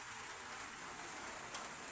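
Rain falls steadily in a continuous soft hiss, faint and even throughout, with no voices over it.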